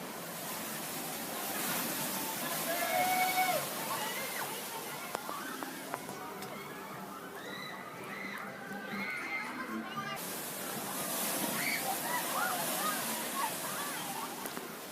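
Water splashing and rushing at Disneyland's Splash Mountain ride as boats come through and soak riders, a continuous distant wash with a brief lull midway, under crowd murmur and faint voices.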